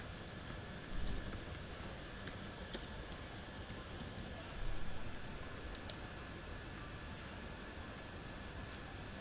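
Quiet typing on a computer keyboard, a steady patter of light clicks with occasional louder key presses, close up against a faint background hiss, no talking.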